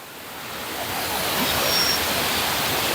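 A river flows near Watu Ondo waterfall in Cangar, Batu, East Java, producing a broad, steady rushing wash that swells slightly louder and then holds constant, with no voices.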